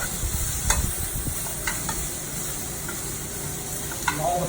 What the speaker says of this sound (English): right now you just want to get the vegetables nice and sauteed